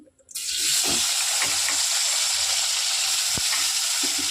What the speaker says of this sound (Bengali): এরপর যে তেলটা বেঁচে আছে ওই তেলের মধ্যেই দিয়ে দেবো কয়েক টুকরো আলু।